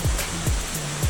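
Waterfall on a cycling loop in Infanta, a dense steady rush of falling water with a few low thumps breaking through the continuous noise.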